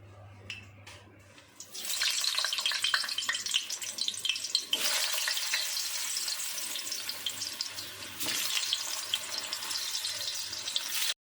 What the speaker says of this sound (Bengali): এবার আমি এখানে ডিম সিদ্ধ, আলু সিদ্ধ করছি, এগুলো একটু হালকা করে তেলে ভেজে নেব